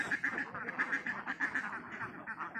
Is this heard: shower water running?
no